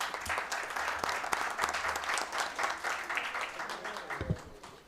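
Applause fills a plenary session of the Brazilian bar association's national council after a vote approving a conference name change, dense sustained clapping from a large audience with a brief voice near the end.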